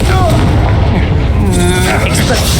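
Confringo blasting spell explosions in the Hogwarts Legacy video game, loud, dense booming blasts and rumbling crackle filling the whole moment, with voices shouting over the combat.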